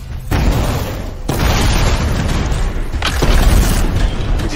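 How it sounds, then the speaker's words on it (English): Canisters exploding in a video game, a series of heavy booming blasts, three loud bursts with rolling rumble between them, close and dominant. "I found some canisters. Could prove useful. Don't try anything dangerous. Not to worry. It'll be a contained explosion."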